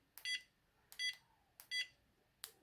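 Electronic whack-a-mole toy beeping: four short, faint high electronic beeps spaced at a steady rhythm, alone without talk.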